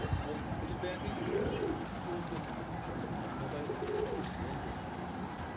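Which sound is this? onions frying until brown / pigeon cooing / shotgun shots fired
pigeon cooing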